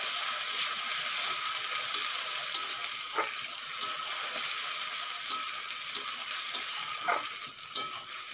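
Onion, ginger and garlic paste frying in a pan makes a constant soft sizzle. Occasional light clicks and scrapes of stirring sound throughout, close and with no voices.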